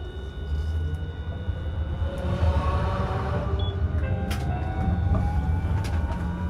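A Hiroshima Electric Railway 1000 Green Mover LEX three-section low-floor tram gets under way, a steady low rumble of wheels and motor with rising whining tones as it accelerates, heard from inside the car.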